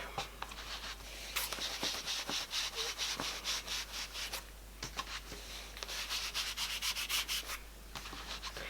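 A sponge or ink applicator rubs distress ink around the edges of a sketchbook page in quiet, repeated scratchy strokes, with brief pauses between passes and no voices.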